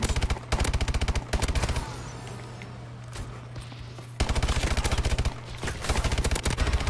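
Rapid automatic gunfire in a Call of Duty: Advanced Warfare firefight, loud bursts in two stretches separated by a quieter gap of scattered shots, with no talking.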